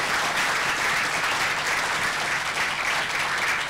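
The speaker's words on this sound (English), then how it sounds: "Shall we give another big round of applause to Professor Minford?" Steady, moderately loud applause from a lecture hall audience after a public lecture, continuous dense clapping with no voices.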